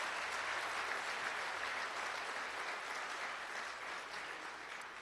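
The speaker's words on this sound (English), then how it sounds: "Give them a round of applause" Steady audience applause at a casino opening, dense and continuous, fairly distant and even, fading slightly toward the end with no talk.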